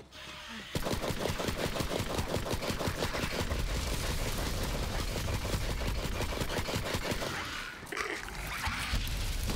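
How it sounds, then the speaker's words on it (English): Shotgun fire in Borderlands 3, heard as a sustained, loud barrage of rapid, evenly spaced blasts that continues almost unbroken and dips briefly near the end. "Shotguns always do the trick, right?"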